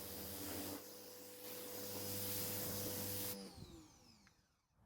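Pressure washer spraying a heavily soiled Craftsman mower deck, a loud steady hiss with a droning motor hum underneath that cuts off partway through, leaving fading spray and drips.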